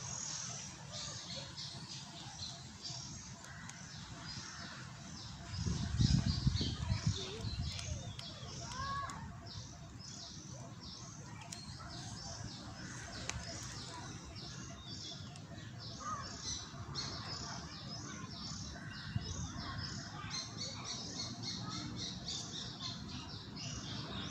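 Outdoors, birds squawk and call repeatedly in harsh, scattered bursts over about twenty seconds, with people talking nearby and a louder low thump midway.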